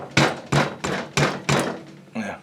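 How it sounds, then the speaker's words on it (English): Five mallet strikes tap a cam pin into its tapered fit in the bottom end of a Kohler K301 engine, evenly spaced, close and solid, followed by a sixth softer knock. "so we're just going to take a little mallet action"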